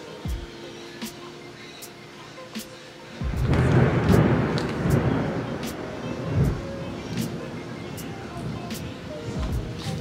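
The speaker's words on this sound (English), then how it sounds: "Anyways, it's raining so bad," Heavy rain pours outside during a storm, with a deep rumble of thunder rolling in after a few seconds and steady rainfall continuing, heard from indoors at moderate loudness.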